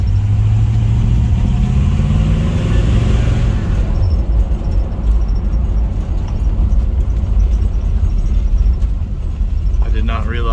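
A 1971 Pontiac LeMans on a test drive, its engine a loud continuous rumble with a rising rev early on, then a steady cruising drone with road noise.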